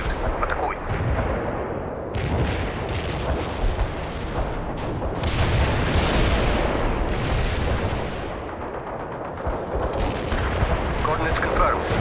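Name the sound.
artillery fire in World in Conflict video game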